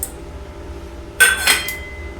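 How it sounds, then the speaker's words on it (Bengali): Chopped tomato tipped into a wok of thin bottle gourd stem curry, giving a short burst of clattering, clinking impacts against the pan and a second smaller clink, close and fairly loud over a quiet background, with no talk. "এতে আমি দিয়ে দিচ্ছি একটা কুচনো টমেটো"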